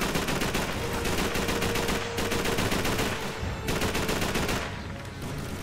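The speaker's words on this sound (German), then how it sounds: "ihr schießt mit eurem MG42 auf dieses Gebüsch" Sustained MG42 machine gun fire in Call of Duty 3, a dense, loud, continuous rattle of rapid shots with only brief pauses, heard alone.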